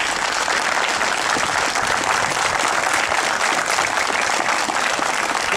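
Dense, steady applause from an outdoor crowd at a motorcycle, helmet and rider blessing ceremony in Portugal, a continuous wash of many hands clapping close by for several seconds with no talk.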